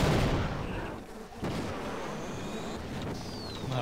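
Explosion set off by the player in Half-Life, a loud broadband blast with rumbling debris, then a second burst about a second and a half later.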